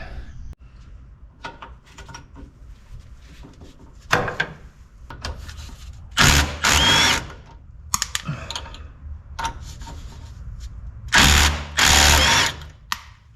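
A Milwaukee Fuel cordless impact driver fires in several short, loud bursts of rapid hammering, separated by quieter clicks and handling noise, while an antique car engine is disassembled.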